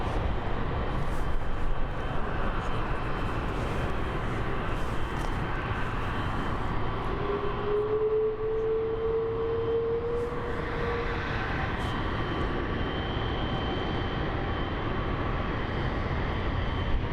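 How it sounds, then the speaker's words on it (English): Boeing 777F cargo plane taxiing slowly at Frankfurt airport, a continuous loud, deep engine rumble with a broad roar that holds steady throughout, plus a brief rising whine midway. "Look at that beauty, 777F. Making a slow taxi."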